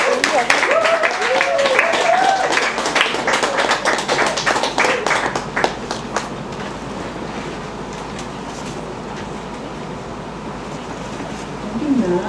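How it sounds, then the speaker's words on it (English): A literary reading audience breaks into dense, close applause for Rachel Allen. The clapping runs loud for about five seconds, then thins and fades, leaving room noise and a brief stir at the end. "Let's have a big round of applause."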